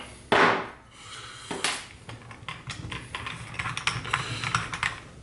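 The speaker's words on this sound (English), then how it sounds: "Let's just snip this off." Small cutters snip off the end of a Clapton coil wire: a couple of crisp clicks close to the microphone, followed by lighter tapping and handling noises.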